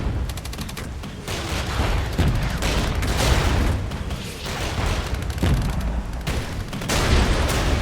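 Dense, continuous battlefield din from the modern-era Regiments war game: overlapping explosions, booming blasts and rapid gunfire volleys in a constant loud barrage with no pauses.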